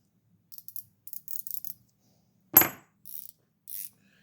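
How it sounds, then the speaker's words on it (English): Gearwrench flex head ratchet wrench clicking in short bursts of rapid pawl ticks, with a louder metallic rattle midway, close and clear with no talk. "These gears sound good, which is the Gearwrench."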